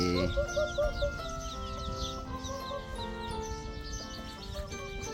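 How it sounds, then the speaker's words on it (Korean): Many small chicks cheep continuously in a high-pitched chorus, with some older hens clucking lower underneath. "참 병아리가 귀엽네요"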